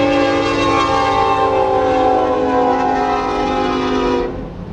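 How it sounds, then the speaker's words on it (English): A train passes among large city buildings, its horn sounding a loud sustained harmonic blare over rumbling rail noise for about four seconds before cutting off. "There's a train somewhere."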